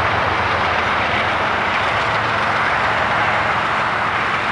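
CSX freight train rolling past in Dorval, Montreal, a steady broadband rumble and rush of wheels and cars that holds constant and loud throughout, with no voices.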